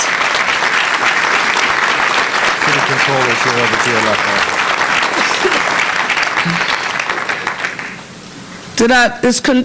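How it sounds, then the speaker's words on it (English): Loud audience applause fills a town hall gathering after a plane crash, dense clapping sustained for several seconds before fading, with someone speaking over it near the end. "Please again give them all a round of applause."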